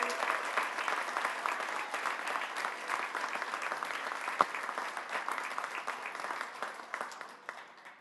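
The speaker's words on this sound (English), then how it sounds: "please give a huge round of applause for our next player" A stadium crowd applauds a Nashville SC Unified team player, number 11, after he is introduced, with dense, steady clapping and cheering throughout that tapers off near the end.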